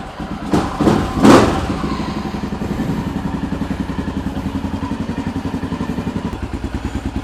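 A motorcycle engine sputters through a few cranks and catches, then settles into a loud, close, steady rhythmic idle with an even chugging beat that continues throughout.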